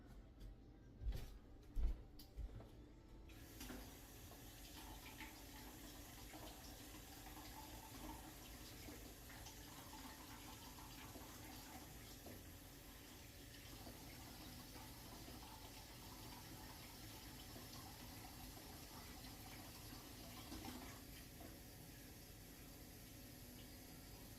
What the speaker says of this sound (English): I'm going to fill this up with hot water.